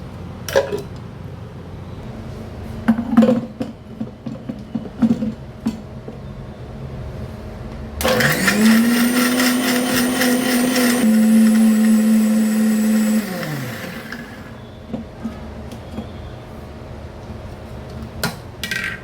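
A kitchen mixer grinder blends roasted dry spices, coconut and cashews with a little water into a paste, its loud whining motor running about five seconds and shifting pitch, framed by scattered clanks of jars and pots.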